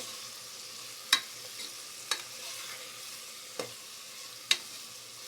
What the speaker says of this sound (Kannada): ಸ್ವಲ್ಪ ಮೆತ್ತಗಾದ ನಂತರ ಒಂದೊಂದೇ ತರಕಾರಿನ ಹಾಕ್ಕೊಳ್ಳಿ.